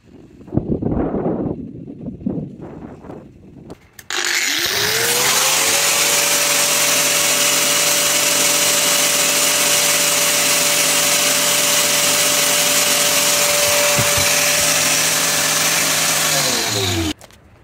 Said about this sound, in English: Stick that grinder on again.